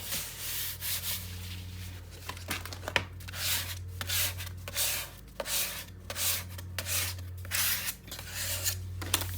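Paper being burnished with a hand tool while building a coral-reef themed mini album, heard as repeated close scraping and rubbing strokes in uneven bursts over a low steady hum.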